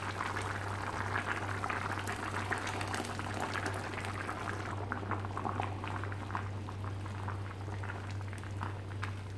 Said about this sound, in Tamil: இப்போ இதை வந்து நல்லா கொதிக்க வைக்கலாம்.